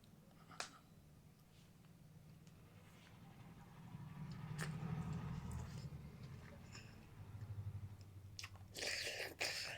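Someone chews and crunches a mouthful of dal rice, soft close mouth sounds with occasional clicks and crunches, faint throughout, ending in a brief burst of noise.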